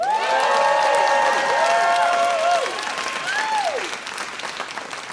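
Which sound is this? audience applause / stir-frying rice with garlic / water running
audience applause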